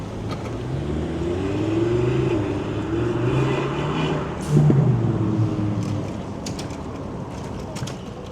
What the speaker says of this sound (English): Lamborghini